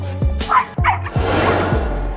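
A dog barks repeatedly at a monkey, several sharp yipping barks in quick succession, close and loud, with no talking.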